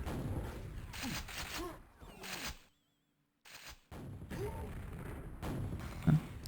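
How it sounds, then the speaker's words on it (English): Rapid gunfire and explosive bursts from a grenade launcher in Quake World ring out in dense clusters, broken by a brief silent gap, then resume at full intensity. "Nightmare is gonna draw first blood with a grenade launcher"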